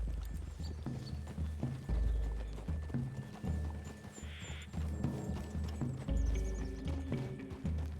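Horse hooves in Red Dead Redemption 2 clip-clop in a steady, repeating rhythm, fairly close, with a faint voice briefly in the background.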